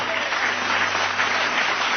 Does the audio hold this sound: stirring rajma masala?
no